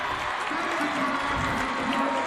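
A crowd celebrates after a Pinkerton Academy high school football win over Londonderry, a dense, roaring mass of cheering and applause from a distance, steady throughout with a voice talking over it.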